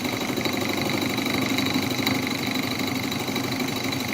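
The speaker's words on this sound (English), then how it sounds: "that kind of sounds like an end mill working" An end mill cutting metal on a lathe milling attachment, giving a steady, continuous machining drone with a fine buzzing chatter that stays even and close throughout, with no voices.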